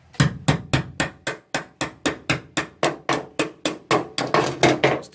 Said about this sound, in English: So I have to use a hammer